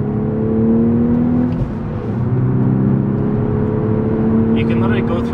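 A 2012 Volkswagen Golf R driven hard through corners, its engine droning loudly from inside the cabin with shifting whirring tones and a brief dip in revs, while someone talks over it.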